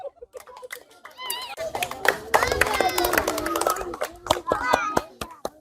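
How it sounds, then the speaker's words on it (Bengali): Audience at a village game show in Bangladesh claps for a contestant who has won prize money, a mix of scattered hand claps and cheering voices with children's chatter, building to a dense burst in the middle and then trailing into loose claps. "তার জন্য সকলে একটা হাততালি"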